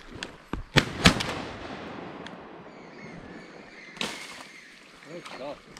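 Shotgun blasts during a duck hunt in New Zealand's North Island: a few sharp, loud reports close together near the start and another about four seconds in, with outdoor ambience and people talking briefly.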